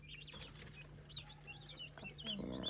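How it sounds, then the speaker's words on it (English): Guinea fowl and turkey chicks in a brooder, soft high peeping calls overlapping steadily at low volume against a constant low hum. "So we got the Guinea, the Guinea turkey chicks."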